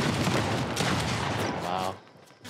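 Dense bursts of video game gunfire, including pump shotgun blasts in a Fortnite Battle Royale arena duos match, crowd the first two seconds loudly and then cut off abruptly, with a player's voice mixed in.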